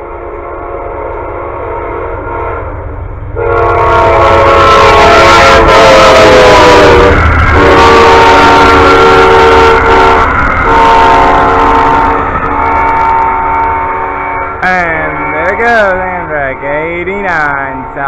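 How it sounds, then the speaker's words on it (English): A loud Amtrak passenger train rumbles past close by in the rain, sounding long, harmonious horn blasts, with a warbling horn tone near the end. "here comes another train. Amtrak 89, southbound"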